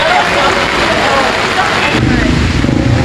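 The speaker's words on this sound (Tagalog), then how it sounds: "Ngayon po medyo malakas ang ulan." Heavy rain pours down at the Lucena Auction Market, a steady broadband hiss of downpour that stays loud throughout and thickens slightly toward the end.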